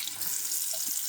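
Tap water runs steadily onto a silicone brush-cleaning mat, a continuous close splashing rinse with no voices.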